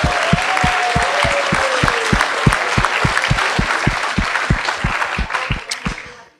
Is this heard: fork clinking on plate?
no